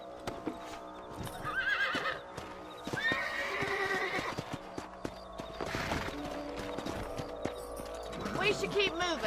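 Horses in the Red Dead Redemption video game whinny several times over steady clip-clopping hooves, with a voice talking intermittently throughout.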